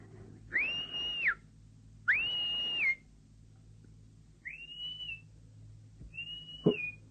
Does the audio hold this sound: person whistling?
yes